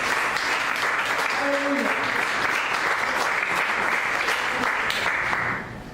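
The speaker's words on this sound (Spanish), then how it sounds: "Den una ofrenda de palmas a Él" A church congregation claps continuously in a dense, even round of applause lasting nearly six seconds, with a voice shouting over it before the sound cuts off abruptly.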